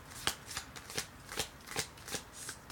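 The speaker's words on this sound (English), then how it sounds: "I only want one card because we only read one card." A deck of sacred geometry cards being shuffled, soft rhythmic riffling bursts repeating about twice a second, close and quiet with no talking.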